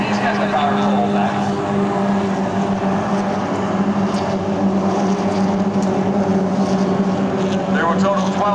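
A Corsair warplane's R2800 radial engine roars at an airshow, a steady loud droning growl that holds level throughout, with an announcer talking over it.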